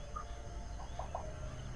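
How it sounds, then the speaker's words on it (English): Creature sound effects from a dragon-themed game, a few short chirping, clucking calls over a steady humming background, faint and spaced out with no talk. "the chittering and chirping and moaning"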